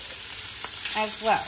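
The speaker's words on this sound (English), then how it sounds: "we're going to let this sear" Beef sears in a pot for a slow-cooked stew with a steady, close sizzle of fat and juices throughout, and a voice briefly speaks near the end.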